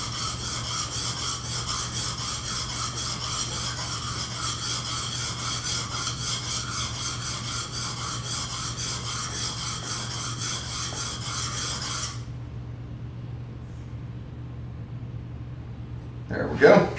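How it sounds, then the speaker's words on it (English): A back edge of a wooden spice rack being deburred with steady, continuous rasping strokes for about twelve seconds, close and loud, then quiet with a brief knock at the end. "And you're going to burr across the entire back edge."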